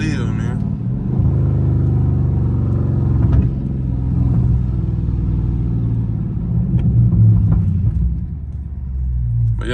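Dodge Scat Pack with a loud exhaust cruising city streets, its engine a deep, continuous rumble that swells briefly as it accelerates, heard from inside the car under faint background noise.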